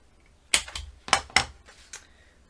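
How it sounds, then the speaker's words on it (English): A corner punch clips the two bottom corners of a paper flap on a 7x7 mini album. There are several sharp, close punching clicks in quick succession, then a softer final click. "I'm going to round the 2 bottom corners"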